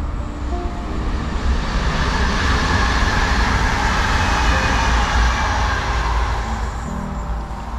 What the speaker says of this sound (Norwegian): I dag så suser toget bare forbi her ved Berg.